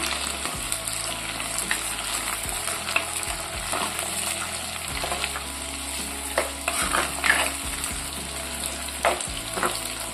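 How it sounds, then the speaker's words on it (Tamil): Garlic, curry leaves and green chillies sizzle steadily in hot oil for a sardine and raw mango curry, with a spoon stirring and scraping the pan now and then. The frying is close and continuous, with no talk. "கூடவே நாலஞ்சு பூண்டு பல் எடுத்து நறுக்கி வச்சுருக்கேன் இதையும் சேர்த்துக்கலாம் கருவேப்பிலை இலைகள் அது கூட நாலஞ்சு பச்சை மிளகாய் இதெல்லாம் சேர்த்து நல்லா எண்ணெயில் வதக்கிக்குவோம்"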